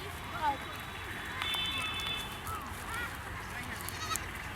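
A goat bleats a few times, short wavering cries mixed in with nearby people talking in a rural setting.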